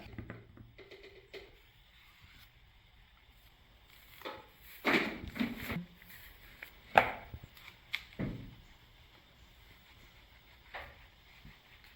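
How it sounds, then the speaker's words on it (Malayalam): Ripe plantains being sliced with a knife on a board for pazhampori, a few sparse, irregular cuts and thumps spread among quiet stretches, close and moderately loud, with no talking. "എണ്ണ ചൂടാവുന്ന സമയം കൊണ്ട് നമുക്ക് പഴം മുറിച്ചെടുക്കാം"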